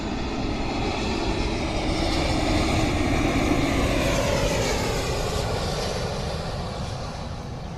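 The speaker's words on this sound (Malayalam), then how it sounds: "ഇൻഡിഗോൻ്റെ ഫ്ലൈറ്റ് ആട്ടോ" IndiGo airliner engines at Karippur Airport roar loud and steady throughout, a broad continuous jet rumble with a slowly shifting whine, easing slightly toward the end.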